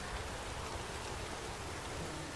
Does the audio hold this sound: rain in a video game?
yes